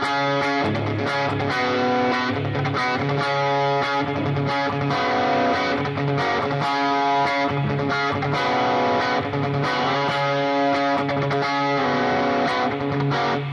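A distorted electric guitar plays the driving intro riff of a song, with steady picked rhythm, loud and continuous throughout.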